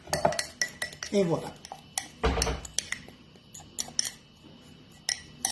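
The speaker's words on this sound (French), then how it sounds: "je vais racler ma fourchette et faire un dernier coup pour être sûr qu'il n'y a pas de beurre tout seul collé ici" A metal fork scrapes and clinks against a cup while butter and batter are mixed for pouding chômeur. The sharp ticks and scrapes come close and irregular, with a short spoken phrase partway through.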